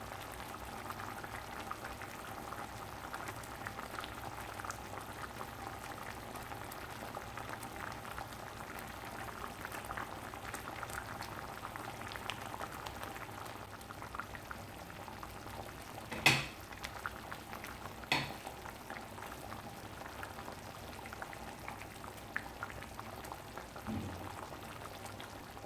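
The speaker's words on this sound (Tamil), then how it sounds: "குழம்பு நல்லா கொதிச்சிருச்சு." Chettinad lentil-ball curry (paruppu urundai kuzhambu) boiling steadily in a pot, a continuous close bubbling simmer with a couple of sharper clinks partway through, no voices.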